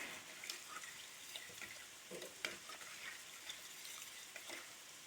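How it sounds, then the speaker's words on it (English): Homemade lasagna sauce with a bay leaf is stirred in a pot on the stove, a quiet bubbling sizzle with soft scrapes and occasional clinks of the spoon against the sides. "We're just going to stir that up."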